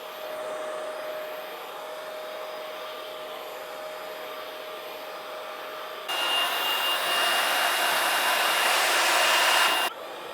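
Prettycare V3 cordless vacuum cleaner running with its brush head, a steady close whine and airflow roar that jumps louder and brighter partway through, then drops back, with no talk.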